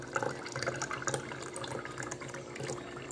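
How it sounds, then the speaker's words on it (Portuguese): Water running from a tap into a container during drink preparation, a quiet, even splashing stream at moderate distance with no voices. "Colocando água aí também."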